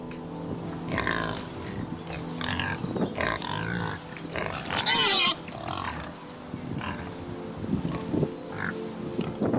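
A pig grunts and snorts close up in a series of rough, uneven bursts, with a few louder squealing grunts in the middle and short pauses between calls.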